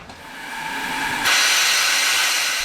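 A hobbyist's miniature steam locomotive at a large miniature railway releases a loud, steady hiss of steam that swells about halfway through and keeps blowing, close by with no talk.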